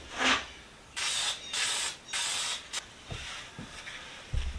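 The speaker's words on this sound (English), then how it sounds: "I'm going to try and spray some gum cutter on there, see if that's going to work" Gum cutter sprays from an aerosol can onto a metal square's coating in four sharp, close hissing bursts, the last one short, followed by a few light knocks and handling clicks.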